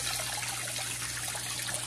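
Steady rushing and trickling water from a Fluval 307 aquarium canister filter outlet, a continuous close hiss with a low hum underneath and no talking.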